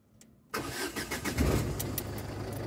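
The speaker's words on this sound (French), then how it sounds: "Je vais démarrer la voiture." A Ford Fiesta 1.4 TDCi diesel engine cranks briefly, catches and settles into a steady, clattering idle, with the car reported to carry a cylinder 2 injector circuit fault code.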